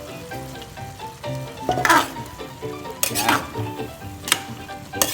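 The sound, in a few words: carrots and chayote sautéing in a pan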